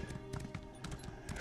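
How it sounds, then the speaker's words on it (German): Hooves clip-clop quickly and evenly as a horse is ridden in The Elder Scrolls Online, faint and steady under the game's ambient sound. "Rauf aufs Pferd. Und dann wollen wir da mal hinreiten hier zu den Jungs."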